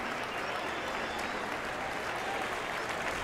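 Team cheering and applause in the cycling game Pro Cycling Manager 2024, a steady, dense wash of clapping and crowd noise that holds at an even level throughout.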